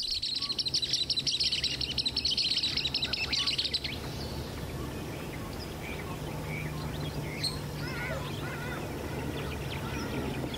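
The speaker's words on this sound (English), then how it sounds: "a pie kingfisher on the bank" A pie kingfisher calls from a riverbank: bright, rapid chattering notes packed densely together for the first four seconds, then scattered fainter chirps over a steady low rumble of wind or engine.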